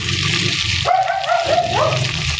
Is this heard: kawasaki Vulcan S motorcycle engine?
no